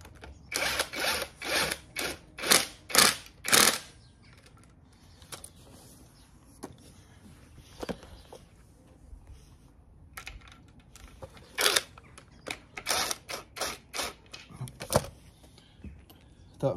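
A bolt is fitted into an engine bracket of a Mazda MX5 mk1. Rapid metallic clicks and ratcheting come close and in clusters, with quieter taps and fiddling between the bursts.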